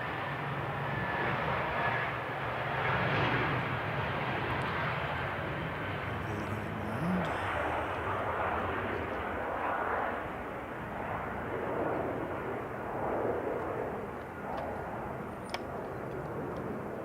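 An Emirates airliner takes off, its jet engines producing a sustained, broad roar that surges and fades in waves over a long stretch, steady and fairly distant, with faint voices now and then.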